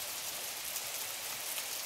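Steady rain falls outdoors on grass and surfaces as an even, continuous hiss, with no voices.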